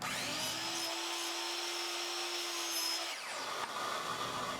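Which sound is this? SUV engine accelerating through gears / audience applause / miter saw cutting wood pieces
miter saw cutting wood pieces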